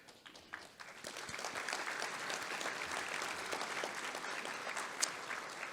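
An audience at the GAPABA gala claps in steady, dense applause that builds slightly and holds for several seconds, sounding somewhat distant and fairly quiet.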